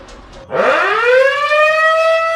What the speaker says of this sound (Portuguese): Acionou o alarme